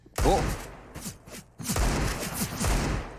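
Desert Eagle pistol shots in a Counter-Strike: Global Offensive pro match on Mirage, a few sharp, heavy single cracks spaced apart, partly overlapped by an excited commentator's voice.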